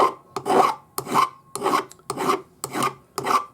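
A hand file rasps against a metal ring being shaped for a hinged ring with claw settings, seven steady strokes in even rhythm, close and clear with no talk.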